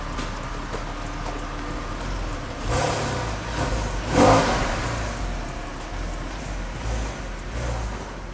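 A Porsche engine fitted with a super-light 3 lb lightweight flywheel idles steadily, then revs up sharply a couple of times with quick rises and drops, heard up close and alone with no talk.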